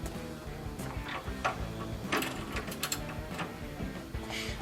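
Socket wrench loosening the front-panel bolts of a pinball machine, giving a run of quick ratcheting clicks and metallic ticks in uneven bursts, close and fairly quiet, with no talking.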